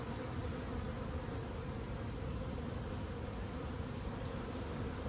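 Honeybees hum in a steady, dense drone from an opened hive during an inspection after a holiday, the buzzing close and continuous throughout with no voices.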